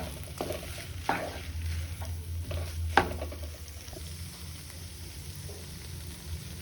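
A vegetable chop mixture with coconut and nuts fries in a pan under a low, steady sizzle, broken by a few scraping strokes of stirring early on, close and without talk.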